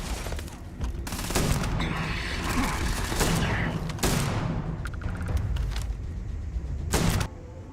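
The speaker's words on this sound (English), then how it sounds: "It's a 4-shot shotgun." A four-shot shotgun fires in the video game Starfield, with sharp blasts over dense combat noise and chatter in the background.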